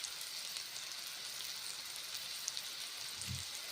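An oats and green pea patty fries in a pan and is browned on both sides, giving a steady, dense sizzle like light rain throughout, with a faint low clunk near the end and no talk.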